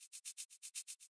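A dark, EQ-filtered shaker loop pumps in a steady rhythm, each stroke ducking and swelling as it is sidechained to a kick, in a dance-pop remake production; soft, close and alone.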